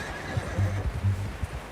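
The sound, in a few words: horse neighing in video game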